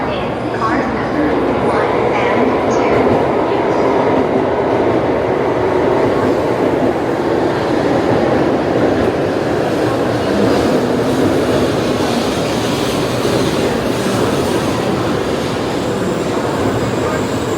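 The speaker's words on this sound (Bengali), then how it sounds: "এবার ঢুকবে আমাদের ট্রেন।" A Shinkansen bullet train pulls into a Tokyo station platform, a steady loud rumble and rail roar building and holding throughout, with faint voices in the background.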